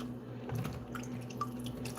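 Water dripping off freshly washed chicken in a kitchen, soft scattered drips and small wet taps close by over a low steady background hum, with no talk.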